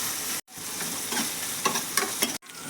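Tomatoes sauté in a hot pan for sirukeerai kootu, a dense, even sizzle with a few soft spoon scrapes, briefly cut by two short silent gaps; no voices.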